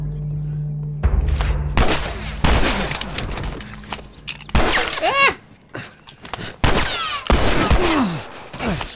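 Gunshots and combat sounds in The Last Of Us video game, loud scattered bangs and impacts spread through the clip, mixed with brief voices and game effects.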